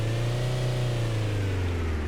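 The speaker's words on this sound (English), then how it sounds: "the car sound fades back nicely to a stop when I leave the car" Video game car engine winding down to a stop, a steady mid-pitched hum with harmonics slowly dropping in pitch, heard alone and close.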